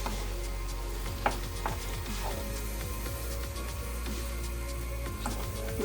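Chopped onion and garlic cloves frying in a pan, a constant close sizzle under a low steady hum, with scattered spatula scrapes and taps against the pan as they are stirred.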